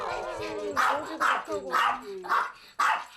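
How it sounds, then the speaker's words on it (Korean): A confined dog barks at someone nearby, giving several loud, close yapping barks in uneven bursts mixed with whiny, whimpering tones, and no one speaks. "짖으며 존재감 뽐내는 사랑이에게 인사를 건네보는데요."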